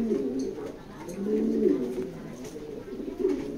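Racing pigeons coo repeatedly in soft, low, throaty bursts, close and fairly steady, with faint background noise and no talk.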